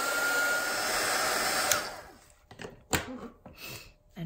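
A hair dryer blows steadily on a layered watercolour flower painting, then switches off; a few soft knocks and small handling noises follow in the quieter stretch afterwards.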